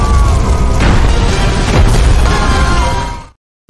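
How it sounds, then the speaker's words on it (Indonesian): A loud homemade bomb blast in the action film The Protector 2 roars as a dense, sustained rumble for about three seconds before cutting abruptly to silence. "LC akhirnya terlempar dan meledak bersama bom buatan Job."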